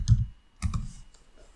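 A few keys are struck on a computer keyboard while a terminal command is entered, giving two or three brief close clicks separated by short gaps in an otherwise quiet room.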